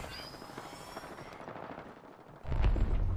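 Rapid automatic weapon fire in a battle royale shooter, a steady crackle of shots that ends in a louder, heavier burst near the finish, with no voices.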